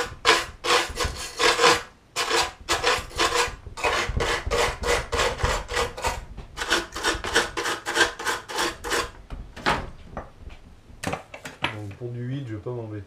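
Rust being scraped off the exhaust bolts of a Citroën 2CV engine: fast, rhythmic rasping strokes, close and loud, coming in bursts, then a few scattered knocks and a short voice near the end.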